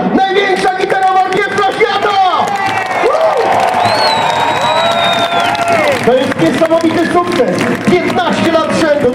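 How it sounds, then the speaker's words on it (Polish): Applause from a crowd of over 10,000 in Wrocław market square at a guitar record event, a huge continuous wash of clapping, cheering and whistles, loud and sustained, with an amplified voice over it. "przede wszystkim wielkie brawa!"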